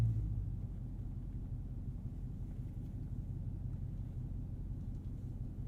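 A Dodge Charger Scat Pack Widebody reverses slowly, its engine holding a steady, deep low rumble throughout with no voices.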